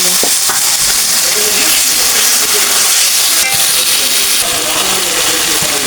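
Washed chicken pieces dropped into hot oil with spices fried until the oil separates, crackling in a loud, dense sizzle with stirring scrapes and a sharp clatter partway through.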